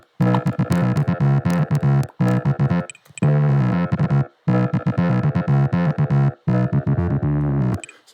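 Dune synthesizer patch with amplitude modulation, loud distorted buzzy synth notes played in choppy phrases with short silent gaps between them.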